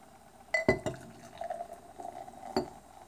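Atwerpen Foreign Export Stout, 8% ABV, poured from a bottle into a glass: a couple of sharp glass clinks, then a soft gurgling pour and one more clink, close by in a quiet room.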